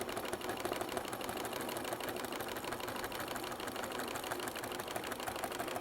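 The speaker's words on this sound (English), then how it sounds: "I'm just perforating the lines, and I'm not wanting them sewed together with thread." A sewing machine runs steadily without thread, perforating marking lines along the gentle curves of a quilt pattern. Its close, even mechanical whir continues without a break throughout.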